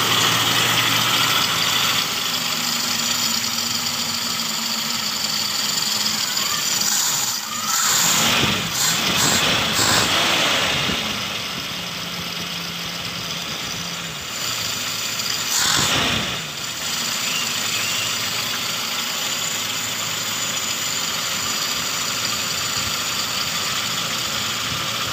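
A Toyota Kijang 5K engine runs steadily at idle after a new distributor was fitted, a continuous close mechanical drone with a couple of brief surges and clatters partway through.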